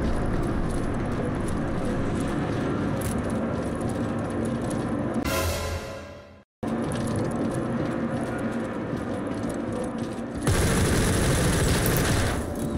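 Sustained rapid gunfire from a firefight in the Star Citizen video game, a dense continuous automatic rattle that breaks off in a brief silent gap, then resumes and swells louder near the end.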